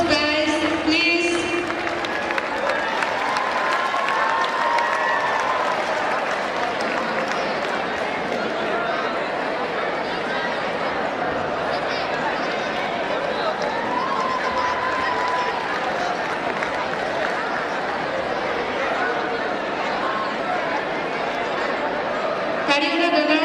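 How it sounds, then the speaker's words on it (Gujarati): Continuous audience applause at a school annual function, many people clapping in a steady, even roar for over twenty seconds with faint voices mixed in. "A big round of applause, guys, please."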